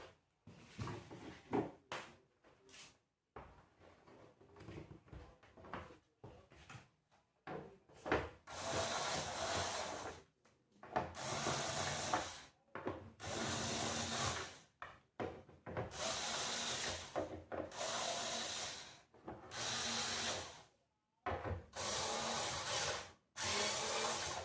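Bolts being unscrewed with a power screwdriver while a Sharp television is taken apart, repeated short close buzzing bursts in a steady on-off rhythm, with faint handling clatter between them and no talk.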